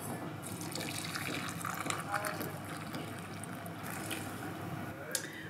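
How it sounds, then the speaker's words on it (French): Water being poured over herbal tea with star anise and CBD flowers in a tea room, heard as a steady, continuous splashing pour lasting several seconds. "on peut ajouter l'eau et laisser infuser 15 minutes avant la dégustation"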